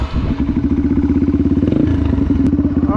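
Yamaha TTR 230 dirt bike climbing a hill in the Mojave desert off-road area, its single-cylinder engine loud and close with a steady pulsing, chugging beat under load and a slight rise toward the end.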